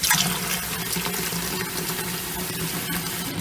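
Water pours steadily from a tap to fill pet water bowls in a condo, a continuous splashing stream running for several seconds with no talking.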